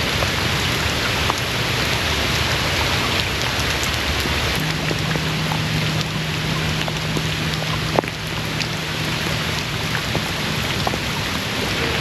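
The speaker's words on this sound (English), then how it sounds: "I think our rain's coming down harder." Steady rain pours down hard on a camper van, a dense even hiss with occasional drops tapping nearby surfaces and a low hum underneath.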